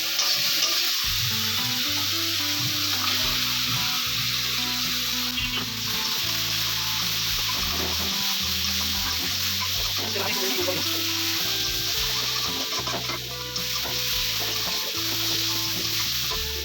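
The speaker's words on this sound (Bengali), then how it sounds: "এখন এই জায়গাতে আমি ভেজে রাখা পটল আর মাছটা একসঙ্গে দিয়ে দিচ্ছি" Fried pointed gourd and fish go into hot reddened oil, giving a loud, continuous close sizzle with occasional stirring over a low steady hum.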